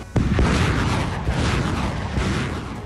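Russian naval artillery strike on Ukrainian positions: a sudden loud boom followed by a sustained rumbling roar of explosions, heavy and close.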